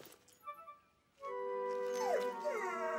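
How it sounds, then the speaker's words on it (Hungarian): A cartoon rescue dog gives soft yips and whimpers, then breaks into a long, loud, wavering howl with rising and falling pitch that carries on to the end. "Ő csak egy kutya. Mentő kutya!"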